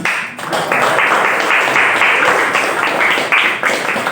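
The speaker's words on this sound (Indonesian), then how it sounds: "kasih tepuk tangan untuk kelompoknya" A classroom audience gives a short burst of applause for a presenting group, dense clapping close and lively for about four seconds.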